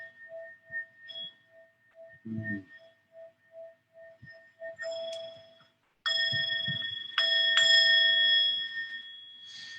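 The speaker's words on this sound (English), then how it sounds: "get yourself a bowl like this and gong yourself every day from head to toe" A singing bowl is struck like a gong. It rings out in clear, sustained metallic tones, first as soft repeated pulses and then as louder, longer ringing strikes, with faint low knocks in between.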